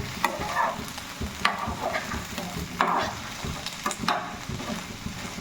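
A small ladle stirs food in a pan, scraping in short repeated strokes roughly once a second over a soft sizzle, close and moderately loud with no talking.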